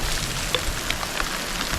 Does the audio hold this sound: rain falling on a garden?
yes